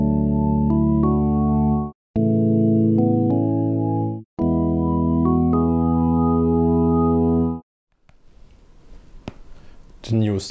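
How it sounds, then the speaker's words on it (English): Organ tones from the Audanika app hold steady, full chords in three sections broken by short silences, close and even in loudness, then give way to soft tapping and rustling. "The new organ sound."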